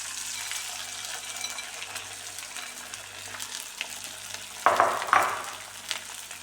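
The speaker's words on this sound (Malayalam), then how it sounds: "നമുക്കിത് ഇതിലേക്ക് ഇട്ട് കൊടുത്തിട്ട് വറുത്തെടുക്കാം" Rice fritter snacks (ari kondattam) fry in hot oil, a steady close crackling sizzle that bursts louder as a fresh batch drops in near the end, followed by a few sharper pops.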